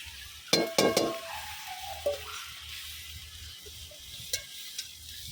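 Green chili and onion hit a hot pan with foraged greens, sizzling steadily while a utensil scrapes and clinks against the pan in a few sharp knocks.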